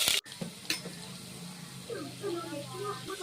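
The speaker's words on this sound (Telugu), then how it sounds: "ఎండుమిర్చి కూడా వేగిన తర్వాత ఉల్లిపాయ ముక్కలు అనేవి కూడా వేసుకోవాలి." Onion pieces added to hot oil with dried red chilies for a village-style okra curry, frying with a soft steady sizzle and occasional stirring clinks close by, while someone talks over it.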